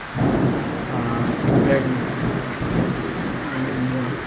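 Steady morning rain pours onto the ground and surfaces, a dense hiss with low rumbling underneath, close and continuous throughout.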